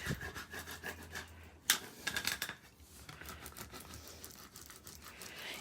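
A scraper rubs and burnishes thick Cricut holographic vinyl, giving quiet, close scratchy strokes in an uneven rhythm with one sharper scrape early on.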